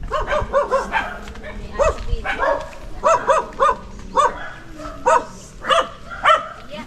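A dog at a house in Kalinga barking repeatedly in sharp, evenly spaced bursts, loud and close, with occasional whimpery yips in between and a faint voice in the background.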